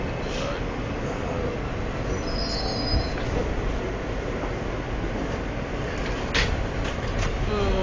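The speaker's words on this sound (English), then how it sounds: "This is a Queens Line E train." A New York City subway E train on the Queens line rolls along with a continuous loud rumble of wheels on track, faint metallic squeals near the end, and a voice talking over the noise.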